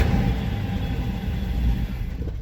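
A cold 1965 Ford Thunderbird engine idles roughly, a loud, close, low rumbling drone that wavers unevenly throughout with no talking over it.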